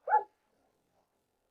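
A single short dog bark, loud and close, from dogs kept around sheep, followed by silence.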